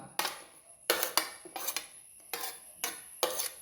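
Onion and green chili being transferred into another bowl, giving five or six close, bright clinks and scrapes of a utensil against the bowls, evenly spaced and with no talk.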